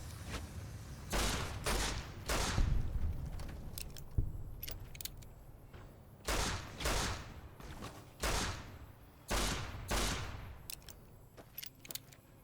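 Gunfire in the video game Fallout: New Vegas comes as repeated loud bursts of shots and blasts, spaced irregularly across the stretch with short gaps between volleys.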